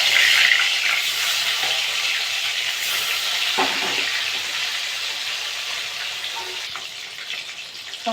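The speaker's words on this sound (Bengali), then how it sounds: "বাকি মাছগুলো আমি একইভাবে ভেজে নেব।" More silver calf fish frying in mustard oil give a constant, close, hissing sizzle with small pops and crackles, a little louder at the start and easing slightly toward the end.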